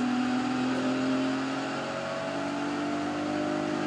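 Thunder Saloon race car engine at Silverstone International, held at a steady loud drone in third gear before a rolling start, continuous and close with a slight pitch dip midway, no voices.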